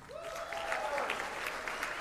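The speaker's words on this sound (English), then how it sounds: "How about a round of applause for Jacob?" Crowd at a college jazz band performance claps in a steady, even round of applause, with a voice speaking briefly over the first second before the clapping continues on its own.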